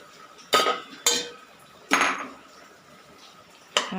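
A spoon stirs ground coconut paste into a pot of jackfruit-seed and mango curry, landing as four separate sharp knocks and scrapes against the vessel with quiet gaps between them.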